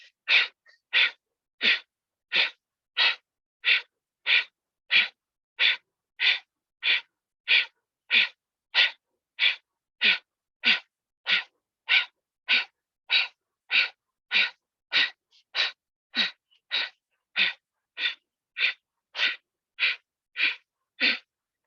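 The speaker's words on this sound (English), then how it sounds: "Exhale, breath of fire through the nose." Breath of fire in a Kundalini yoga session: rapid, forceful exhales through the nose in an even pumping rhythm, about one and a half per second, close and clear with no talking.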